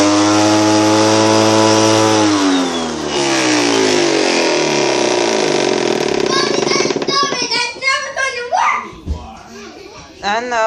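A broken Bissell vacuum cleaner runs with a loud, harsh buzzing whine like a chainsaw, its pitch sagging as the motor bogs down, then sputtering and cutting out while someone talks nearby.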